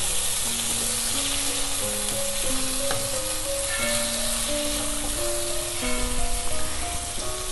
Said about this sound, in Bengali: ভালোভাবে একবার মিশিয়ে নিচ্ছি মশলার সাথে